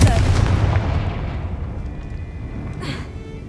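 Confringo fire-blast spell cast in the Hogwarts Legacy video game: a loud booming blast at the start, rumbling and crackling as it slowly fades over a few seconds, with a brief whooshing flare near the end.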